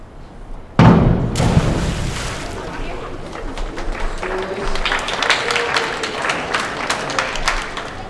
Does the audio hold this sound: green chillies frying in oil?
no